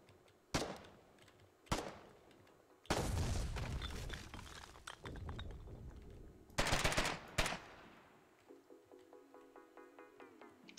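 Video game gunfire crackles in sharp separate bursts: single shots, then a longer rapid volley with shattering impacts, loud and close, ending in a quieter ringing, metallic tail.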